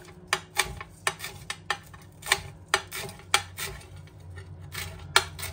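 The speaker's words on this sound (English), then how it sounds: "Chop the coriander." A knife chops fresh coriander on a board in quick, irregular taps. The sound is close but fairly quiet, with a low background hum and no talking.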